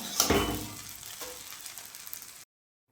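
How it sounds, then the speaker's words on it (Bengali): Pasta is stirred through sauce in a pan, giving a short scraping burst followed by a soft, steady sizzle and faint stirring scrapes before the sound cuts off. "সসটা পাস্তার সঙ্গে নাড়িয়ে চাড়িয়ে নেব"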